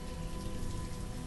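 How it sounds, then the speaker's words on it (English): Rain falls in the city-building video game Banished, a steady dense patter of drops that stays even and fairly loud throughout, with no voices. "People don't like the rain, apparently."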